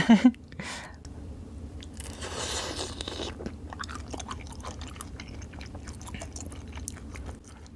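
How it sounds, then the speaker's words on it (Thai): Close, steady chewing of crunchy soy-sauce-pickled shrimp, with crisp bites and moist crunching repeating over several seconds, no talking. "กุ้งกรุบมาก"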